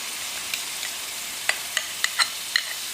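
Yogurt going into a pan of frying chillies for dahi mirch, giving a steady soft sizzle with a few sharp crackles and spatters near the end, close by and with no talk.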